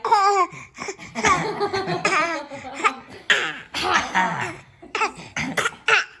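A child with a cold coughing close by in short bursts, mixed with bouts of laughter and babbling vocal sounds, with uneven loud and quiet stretches.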